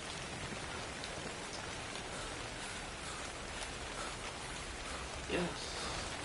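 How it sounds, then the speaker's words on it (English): Steady rain in the video game ARK hisses evenly throughout, a dense wash of falling drops with a faint brief thump near the end. "it's raining so I'm cold"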